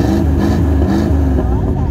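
A Ford Galaxie V8 exhaust rumbles deep and loud, steadily up close, a throaty low burble with a faint rise in pitch.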